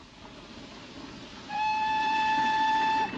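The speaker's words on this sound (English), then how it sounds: "The train's coming in." A 1941-era train pulls into a station, with a rumbling rolling approach followed by a loud, sustained whistle blast lasting over a second, close and without speech.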